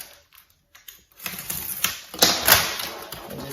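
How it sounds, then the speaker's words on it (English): Blade slicing through an extra piece of mat board for a character standup, a series of short scraping and cutting strokes after a quiet start, close and fairly loud. "what I'll do is just kind of cut this extra piece out"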